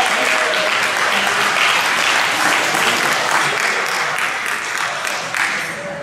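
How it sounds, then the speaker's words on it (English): Club volunteers and pit marshals at a CVMA awards gathering receive a sustained round of applause from an indoor crowd, steady dense clapping that tapers slightly at the end. "big thanks and a big round of applause for them too"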